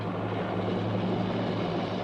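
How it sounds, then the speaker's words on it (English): A helicopter passes close overhead, its rotor chop and engine drone loud and steady throughout with no voices. "The helicopter swings back over Hank Coffin's airport as Ralph prepares to jump."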